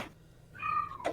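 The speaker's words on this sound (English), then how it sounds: "That's my cat, and she is old and bitchy." An old cat gives a single short meow indoors, faint and a little distant, rising briefly in a quiet room.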